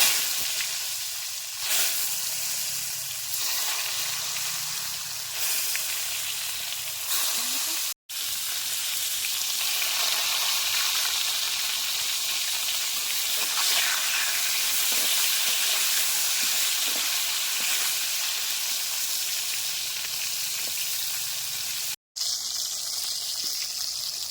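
Brinjal (eggplant) pieces frying in mustard oil with cumin, a steady loud sizzle with light crackle continuing throughout, close and with no talk.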